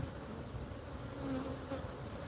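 Honey bees drone steadily at an open hive during an inspection, a dense, continuous buzz close by that swells slightly midway, with no talk over it.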